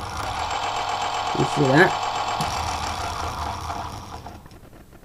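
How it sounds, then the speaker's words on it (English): A small electric motor lying on its side runs with a noisy, rattling hum under a man's brief spoken remark, a whining wobble rising in the middle before the sound fades toward the end. "My motor's not usually that noisy, but it doesn't like working on its side."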